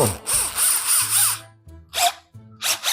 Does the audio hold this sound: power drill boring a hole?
yes